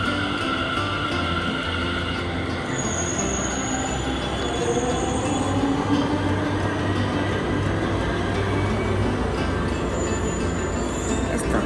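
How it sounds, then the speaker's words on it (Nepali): A Delhi Metro train pulls into a station platform, its wheels squealing against the rails in a long high whine over a steady loud rumble that carries through the whole stretch. "हामी जाने ट्रेन आयो, यसरी आउँछ अनि ठ्याक्कै हाम्रो दोकानतिर आएर रोक्छ।"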